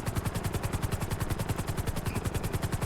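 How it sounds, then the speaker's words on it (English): A video-game helicopter lifts off in a flight simulator, its rotor beating in a fast, steady, loud chop throughout with a heavy low thump on every pass. "So just kind of like lift your helicopter up"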